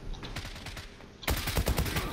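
Rapid automatic gunfire in the online shooter Zula on a ship map, a steady burst that suddenly grows much louder and denser halfway through, sustained close fire with no talk.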